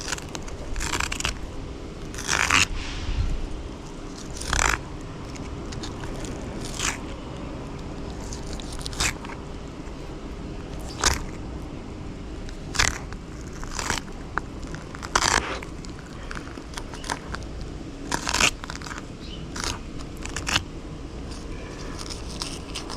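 A knife slices through a long nose gar fillet, producing repeated crunchy, crackling cuts and wet scrapes in irregular bursts, close and fairly clear.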